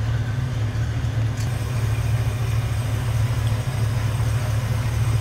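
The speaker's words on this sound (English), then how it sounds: "See how smooth that engine runs." The V8 engine of a 1968 Ford Mustang Convertible idles smoothly and steadily up close, a deep even rumble with no revving throughout.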